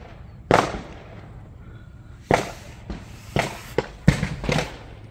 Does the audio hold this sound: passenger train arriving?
no